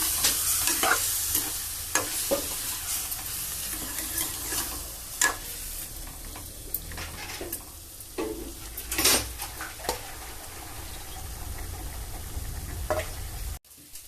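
Marinated chicken masala frying in hot oil with popped mustard seeds for chicken sukka, sizzling steadily while a spoon scrapes and knocks the pan in repeated stirring strokes, close and continuous.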